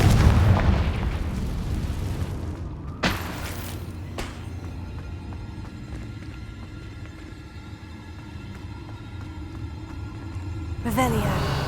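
Confringo fire spell bursts in the Hogwarts Legacy video game: a sharp explosive boom near the start, another blast around three seconds, then a lingering rumble and a final burst near the end, with a voice speaking early on.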